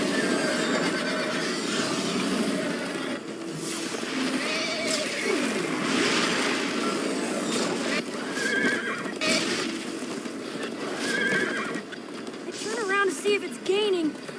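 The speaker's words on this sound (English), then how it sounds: "First time on a horse here." Horse in Minecraft Story Mode whinnying several times amid galloping hoof noise and rushing motion, voices talking over much of it, the neighs most distinct toward the end.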